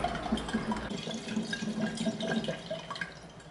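Ethanol solution drips through a filter during a paracetamol filtration in a lab. Steady, faint drops fall in an irregular patter over a quiet background, with no talking.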